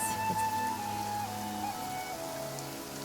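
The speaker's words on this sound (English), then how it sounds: "It's raining again?" Rain falling in the video game Genshin Impact, a steady, even patter on surfaces that continues throughout. Faint game music with sustained tones plays softly underneath, and no one speaks.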